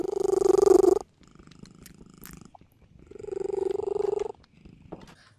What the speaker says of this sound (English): I'm sorry if you can hear my cat purring in the background